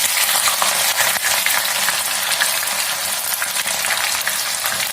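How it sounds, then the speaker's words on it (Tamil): Bitter gourd pieces fry in hot oil on a tawa, giving off a steady, dense crackling sizzle that holds evenly throughout, close and fairly loud, with no talking. "இப்போ நான் பாவக்காவை ஆயில்ல போட்டாச்சு"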